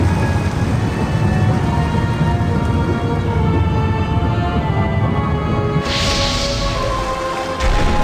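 Water switched on and starting to flow in the video game Indiana Jones and the Infernal Machine: a steady, dense rushing wash that swells partway through with a brighter hissing surge, heard alone without talk.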